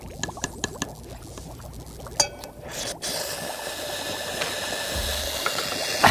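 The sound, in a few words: small piece of sodium reacting in water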